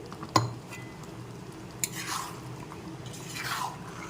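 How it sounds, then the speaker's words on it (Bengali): Water is tipped from a spice bowl into a pan of cooking chicken for posto chicken: a sharp clink of the bowl on the pan, then two brief splashing swishes over a low kitchen hum, with no talking. "মশলার বাটির মধ্যেই জল ঢেলে জলটা দিয়ে দিচ্ছি"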